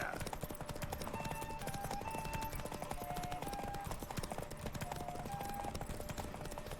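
Rapid rhythmic hoofbeats of a galloping horse in The Witcher 3, steady and continuous, with faint tonal game sounds and a brief whinny in the mix.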